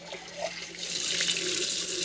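Tap water runs into a kitchen sink as a cleaned item is rinsed again, starting softly and swelling into a steady close hiss and splash, with no one talking.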